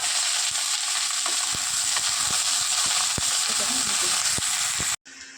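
Cauliflower and potato frying in mustard oil in a kadai give a loud, close, steady sizzle with scattered sharp crackles and stirring clicks, ending abruptly.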